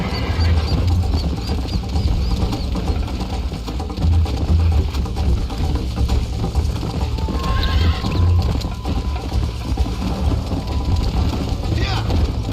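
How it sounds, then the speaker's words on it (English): Horse hooves clip-clop at a gallop with repeated neighs and whinnies in Red Dead Redemption, a game set in the Old West, heard steadily over a dense game soundscape with a brief voice in places. "This horse is so slow."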